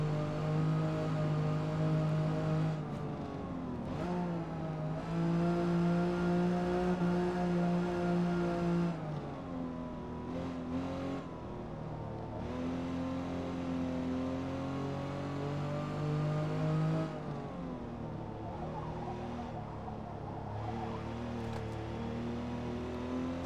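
An Aston Martin DB4 GT races on the Nürburgring, its engine note rising and falling as it climbs through gears and lifts off between corners, a sustained tonal roar heard from inside the car.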